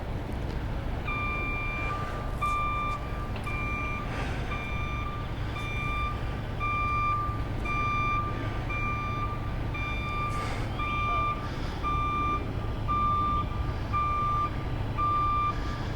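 A truck idles with a low rumble at a mall renovation site while its reversing alarm beeps steadily in a regular rhythm, heard from some distance outdoors.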